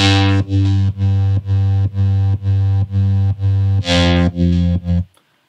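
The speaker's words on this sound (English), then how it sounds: "The bass line are actually layered, the sub layer" A thick, distorted layered synth bass, sub and top layers together, pulses in a steady repeating pattern of sustained notes for a club track, loud and upfront, with a brighter swell near the end before cutting off.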